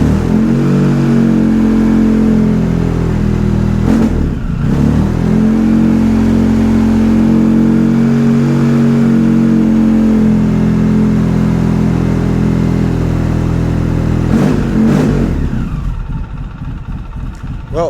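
Polaris Sportsman 700 ATV engine idling and revving up close, a steady mid-pitched drone broken by a few sharp throttle blips, fading to a lower note near the end.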